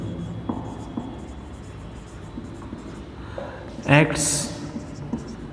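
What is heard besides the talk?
writing notes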